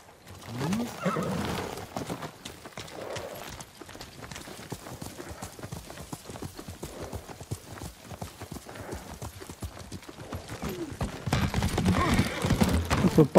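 Horse hooves clip-clop at a steady trotting rhythm in the video game Ghost of Tsushima, close and continuous. The hooves quicken and grow louder toward the end. A brief voice is heard early on.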